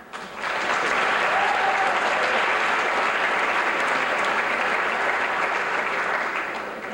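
Loud, sustained applause from an audience at a senior awards night fills the room, swelling quickly and holding steady for several seconds before beginning to fade.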